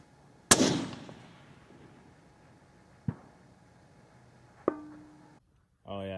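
Rifle bullet from a suppressed long-range rifle striking a steel plate 1,000 yards away: one sharp distant crack with a decaying ring, then two fainter clanks a few seconds apart and a brief voice at the end.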